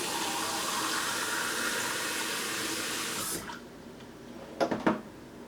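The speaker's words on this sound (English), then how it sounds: "you can hear the spray with a new sprayer" Water sprays steadily from a new side sprayer on an older Delta kitchen faucet for a few seconds, then cuts off, followed by a few short splashes and drips.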